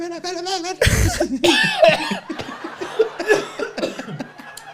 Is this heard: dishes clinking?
no